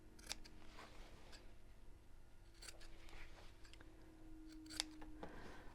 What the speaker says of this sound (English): I'm also going to snip off the corners to cut down on the bulk when I turn this through.